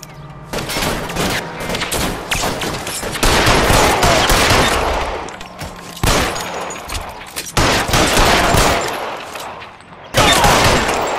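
Heavy gunfire rattles through an L.A. Noire shootout at an electroplating plant, with loud overlapping bursts of shots and rapid volleys that stop for short gaps before resuming.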